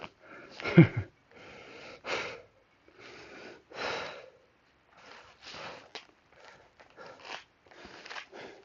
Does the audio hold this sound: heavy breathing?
yes